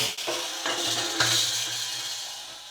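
Scraping and rubbing of metal and wood as the basket is lifted out of a BrewZilla Gen 4 brewing system, with a few knocks over a steady hissy background.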